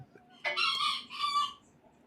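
A small caged pet bird gives a short two-part call mimicking a spoken "oorah", a brief bright squawk in a quiet room.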